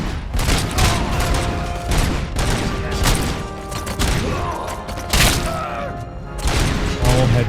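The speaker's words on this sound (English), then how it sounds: "I just shoot everything." Gunfire in the video game RoboCop: Rogue City, a dense run of loud, close shots and heavy thuds with mechanical clanks, over game music and a voice speaking.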